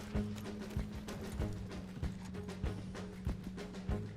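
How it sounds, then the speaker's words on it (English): Horse hooves clip-clopping in the video game Red Dead Online, a steady walking rhythm of soft thuds repeating about every half second, fairly quiet and alone. "Let's sit on this horse. There is a horse."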